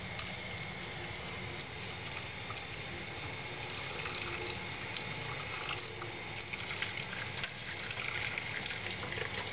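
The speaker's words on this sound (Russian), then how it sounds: "Вот, течет с нижнего патрубка вода." Coolant water runs steadily from the lower hose of a rear-wheel-drive VAZ engine during a thermostat check, a continuous close trickling wash over a faint background hum with no pauses.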